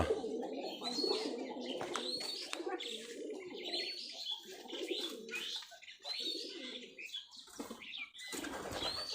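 Giribaj high-flyer pigeons in a loft coo in repeated low, throaty phrases, with scattered chirps and short bursts of wing flapping close by.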